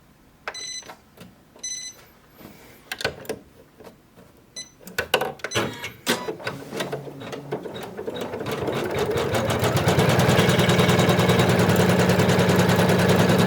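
An embroidery sewing machine stitching an appliqué starts with scattered beeps and clicks and a few slow stitches, then speeds up into a loud, steady, rapid needle clatter that fills the second half.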